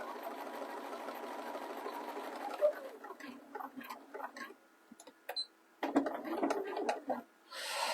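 A sewing machine runs in short bursts while stitching a small swim bag, with brief pauses between runs and a closer, louder spurt near the end.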